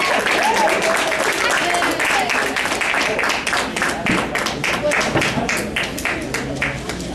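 Audience applause at an African Views Organization event at Radford University, a continuous dense patter of many hands clapping throughout, with some crowd voices and cheering mixed in.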